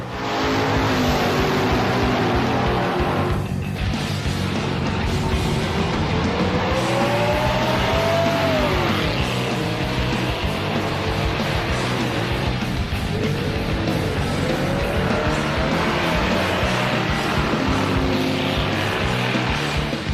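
Drag racing cars roar side by side at a Mopar event, loud engines revving and rising in pitch as they launch down the strip, with crowd and track ambience and no speech.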